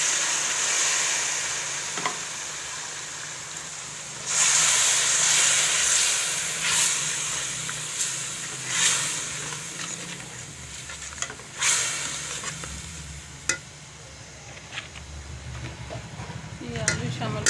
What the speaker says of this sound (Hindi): ये कीमा शामिल कर रही हूँ।